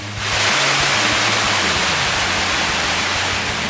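Paet Sian waterfall at Chiew Lan (Ratchaprapha) Dam roars close by. Its constant, loud wash of falling water goes on without a break, and no voices are heard.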